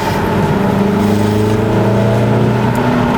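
A 2019 VW Tiguan engine runs at a steady raised rev, a loud, even hum with a constant low drone throughout and no talk.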